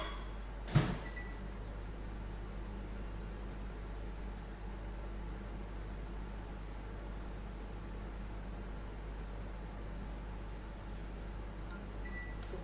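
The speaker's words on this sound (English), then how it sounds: "Okay, so I'll just microwave it and melt it." Microwave oven running to melt Amul butter in a home kitchen, a steady low hum with a constant electrical drone, opening with a brief click or thump, no talking.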